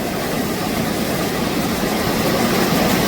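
Steady, droning hum of a fishing boat's engine running continuously, loud and close, with no talk over it.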